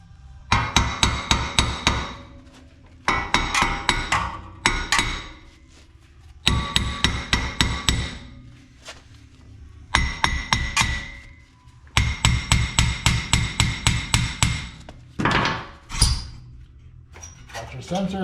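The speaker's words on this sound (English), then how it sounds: "so now let's just hammer it off" Repeated heavy hammer blows knock loose a ball joint on a Ford Super Duty truck front axle, struck in several rapid bursts of metallic hits separated by short pauses, close and loud.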